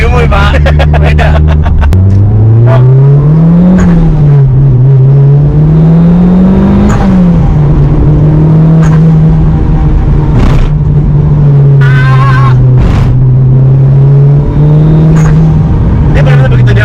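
A Mitsubishi Lancer Evolution 7 turbo engine drones steadily, its pitch climbing and pulling as it accelerates through the gears, with people talking over the constant cabin hum.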